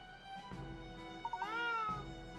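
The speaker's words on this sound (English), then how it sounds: "What are you meowing about?" A cat in the video game Katrielle and the Millionaires' Conspiracy gives a drawn-out, rising meow, loud and clear against quiet background music.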